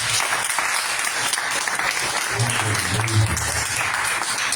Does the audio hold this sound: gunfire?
no